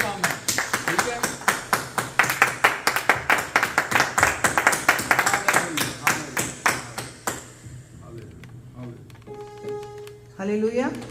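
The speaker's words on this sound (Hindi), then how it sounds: "तालियों से पता चलनी चाहिए कि कितने खुश हैं" A church congregation claps in a steady, loud rhythmic beat for about seven seconds, then the clapping fades out and a voice follows.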